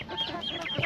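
Backyard chickens cluck briefly in a quick, soft burst of short calls, fairly close and alone.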